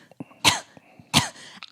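A man imitates a retching, hacking cough with his voice: two loud harsh bursts about a second apart, each with a rough gagging tail, framed by short breaths and small throat noises.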